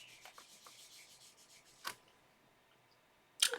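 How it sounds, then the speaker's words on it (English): Paper being rubbed by hand to transfer a card-making impression, soft faint scratchy strokes in a loose rhythm, with a couple of sharper brushing swipes standing out. "I'm just rubbing it, making sure I get a good impression."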